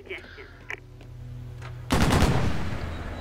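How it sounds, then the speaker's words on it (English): Exploding rounds fired from a vehicle's gunner seat in the Mercenaries 2 video game, heard as a sudden loud, rapid burst of heavy automatic fire with crackling impacts that continues steadily over the engine hum. "Exploding rounds is not bad."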